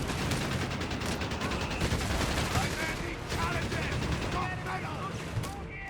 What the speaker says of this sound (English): M16 engaging the Panzerjaeger's half-track, shredding the thing there in a matter of seconds